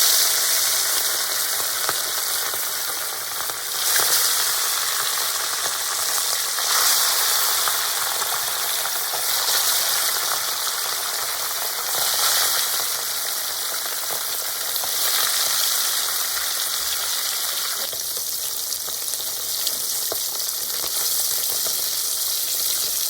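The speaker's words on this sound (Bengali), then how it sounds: "এবার আমি একে একে মাছগুলোকে তেলের মধ্যে ছেড়ে দেব।" Pieces of fish frying in hot oil, a steady dense sizzle and crackle that runs unbroken throughout with no voices.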